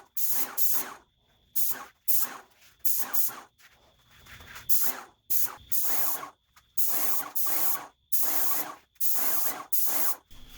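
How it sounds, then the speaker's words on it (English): Bursts from a paint sprayer coating a bed, a dozen or so short loud hissing blasts in a fast stop-start rhythm, close by, with quiet gaps between them and no talk. "This is the last coat of paint, sped up for your enjoyment."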